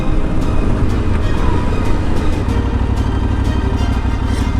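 An Aprilia Tuareg 660 motorcycle idles at a stop sign, its engine holding a steady, close, unbroken rumble throughout with no voices.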